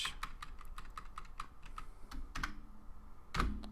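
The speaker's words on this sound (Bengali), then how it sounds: "জাস্ট এইভাবে টাইপ করে এন্টার দিচ্ছি" Quiet, close keystrokes tapping at a steady pace on a computer keyboard, with a couple of heavier presses of the enter key standing out near the middle and end.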